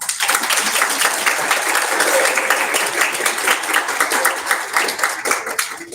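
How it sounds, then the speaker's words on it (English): A loud, sustained round of applause from friends and family at a Lambda Pi Eta honor society induction ceremony, dense crowd clapping with some sharper individual claps standing out and tapering slightly near the end. "give them a massive round of applause"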